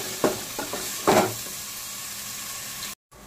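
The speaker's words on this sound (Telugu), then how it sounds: "అల్లం వెల్లుల్లి పేస్ట్, పచ్చి కొబ్బరి పేస్ట్ వేసుకొని ఫ్రై చేసుకుందాం." Ginger-garlic paste and fresh coconut paste fry in a pan for a tamarind fish curry, with a steady close sizzle broken by a few scraping stirs early on, then a brief cutoff near the end.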